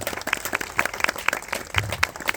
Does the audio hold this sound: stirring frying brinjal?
no